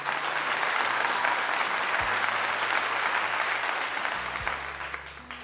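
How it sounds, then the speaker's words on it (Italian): Steady applause from a crowd, dense clapping that holds level for several seconds and then tapers off near the end. "Applauso a Tici"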